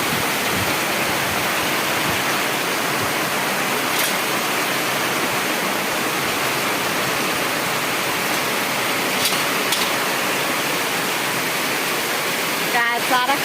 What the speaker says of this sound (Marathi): खूप जोरात पाऊस आला आहे बघा.